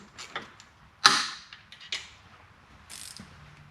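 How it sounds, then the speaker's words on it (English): Ratchet wrench clicking on rocker box bolts of a 2004 Harley Davidson Road King Twin Cam, a few irregular close ratcheting bursts and metallic clicks with quiet gaps between, no talking. "A good set of ratchet wrenches are a must for working on a lot of different stuff on a Harley"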